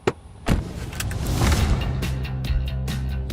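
A Hyundai Santa Fe family car is driven flat out on a test track straight. A few sharp clicks and thumps come first, then a sustained, loud engine roar builds and holds close by.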